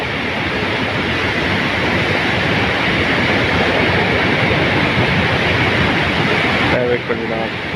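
Canal water at the Khokhar bridge in Sindh rushes and roars in a loud, steady broadband wash that fills the whole stretch, close and continuous, with brief faint tones near the end.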